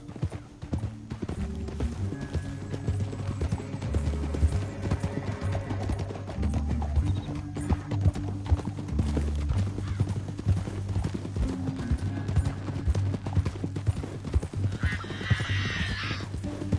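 Steady clip-clop of several galloping horses in the video game Red Dead Redemption 2, loud and continuous, with a brief whinny near the end and a faint voice.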